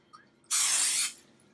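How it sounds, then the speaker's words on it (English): Pam cooking spray is sprayed into an empty dough bucket: one close, steady hiss of about half a second that starts and stops abruptly, heard alone with no talk. "I'm going to give a little spray of Pam not a commercial, into the bucket there"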